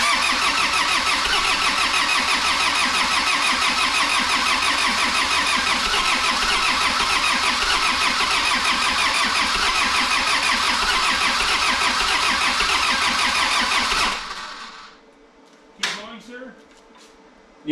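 A 1984 Ford Escort engine cranks loud and steady for about fourteen seconds, then cuts off into near silence with a few faint clicks and rattles.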